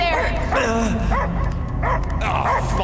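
Dog barking and yipping in the Guardians of the Galaxy video game, a series of harmonic bursts over a steady low game rumble, with voices and soundtrack layered close underneath.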